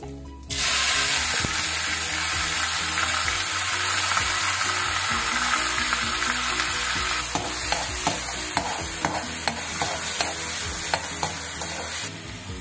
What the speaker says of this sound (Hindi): और हम इसकी छोक की तैयारी करते हैं वन स्पून जीरा और एक साबुत मिर्च